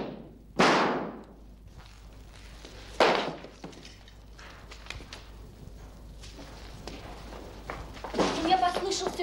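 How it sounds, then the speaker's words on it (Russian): A gunshot in a 1958 Soviet film, two sharp loud cracks a few seconds apart, followed by quieter thumps and footsteps, with people talking afterward. "У меня послышался выстрел?"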